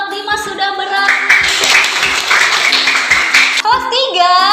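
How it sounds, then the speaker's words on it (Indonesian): Schoolchildren in a classroom clapping for a classmate, a burst of close, bright applause lasting a few seconds, with children's voices and a teacher speaking before and after it. "Teman-teman, tepuk tangan buat Dimas sudah berani."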